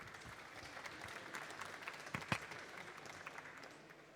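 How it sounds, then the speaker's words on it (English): A conference audience applauds a presenter named Martin, a steady, fairly quiet wash of many hands clapping together that holds for about four seconds without letting up. "Round of applause for Martin."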